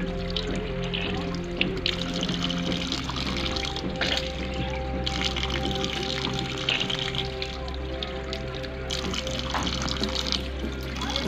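Water runs steadily from a tap with splashing and gurgling as a mouth is rinsed during ablution, continuous and close, broken by brief pauses.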